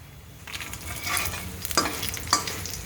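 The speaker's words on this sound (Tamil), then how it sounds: "கிண்டு கிண்டு" Food sizzles in a frying pan while a spoon stirs and scrapes it, giving a steady close hiss broken by a few sharper scraping strokes, with no talking.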